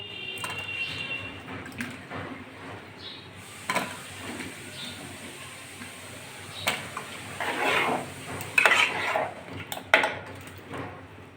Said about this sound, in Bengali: আমি কেটে ধুয়ে রাখা লাউগুলো ডালের ভিতর দিয়ে দিচ্ছে